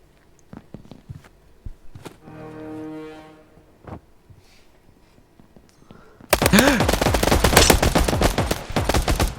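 Rapid automatic gunfire from an enemy player in a battle royale shooter game, a dense loud burst of shots taking over the last few seconds after quieter footsteps, single shots and a low droning tone.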